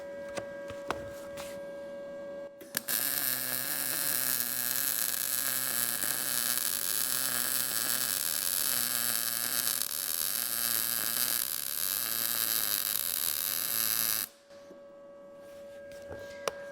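Arccaptain MIG200 MIG welder laying a bead, a loud, continuous sizzling arc crackle like frying bacon that lasts about eleven seconds, with hum before it starts and after it stops.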